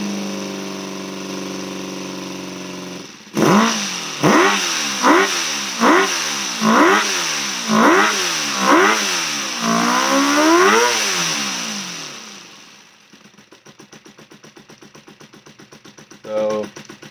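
A small, high-pitched 8cc inline-four crossplane two-stroke model engine with tubular exhaust revs in about eight sharp repeated bursts, climbing to a sustained scream near 7,000 RPM, then drops back to a quieter, steady idle around 400 RPM.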